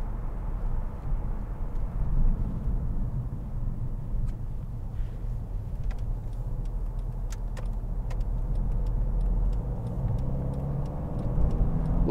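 A 2014 Mercedes-Benz C250 CDI AMG Sport Edition diesel drives steadily, its low engine and road rumble continuous and fairly loud inside the cabin, with small clicks from the gearbox shifting.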